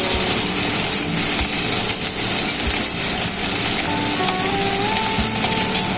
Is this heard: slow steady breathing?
no